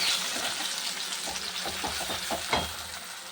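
A paste of ginger, garlic, chili, tomato and spices frying in fish oil in a pan: a steady close sizzle with soft scraping stirs at irregular intervals.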